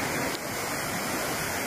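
The Incomati River rushes steadily and loudly, a dense, unbroken roar of flowing water filling the whole scene with no voices.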